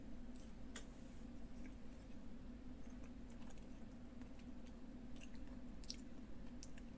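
Close-up chewing of a dense, high-meat unsalted sausage flavoured with lager, soft wet mastication with faint clicks over a steady low background hum, no talking.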